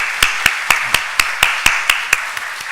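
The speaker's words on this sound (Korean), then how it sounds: "격려의 박수 하겠습니다." Congregation at a Wednesday church service claps in encouragement as one steady, evenly spaced rhythm, about ten sharp unison claps, close and loud with nothing else over them.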